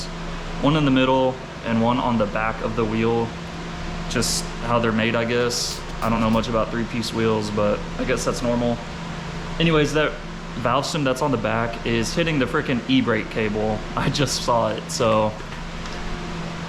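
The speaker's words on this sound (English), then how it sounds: "Sorry for the fan noise" A fan hums steadily in the background beside a widebody C5 Corvette fitted with new three-piece wheels, a constant low drone running under continuous close-up talking.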